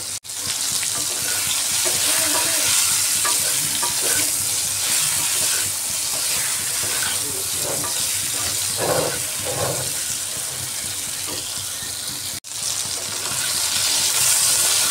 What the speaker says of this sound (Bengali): এইভাবে বারবার নাড়িয়ে একটু হালকাভাবে ফ্রাই করে নিতে হবে ভেন্ডিকে।